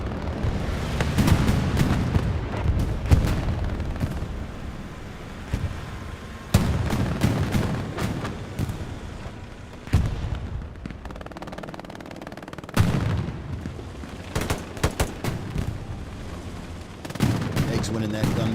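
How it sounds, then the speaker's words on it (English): Dense gunfire from a Hell Let Loose gun battle, with repeated bursts of rifle and machine-gun shots and heavy booming impacts coming in waves, loud and close with a continuous battlefield rumble underneath. "Winning that gun battle."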